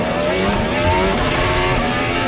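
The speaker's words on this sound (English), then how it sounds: "this is the sound of Oscar Piastri, who had a rocketed start in his McLaren" Oscar Piastri's McLaren Formula 1 car during the 2023 Qatar Grand Prix, a loud continuous high-pitched engine scream with shifting harmonic tones, close and dominant throughout.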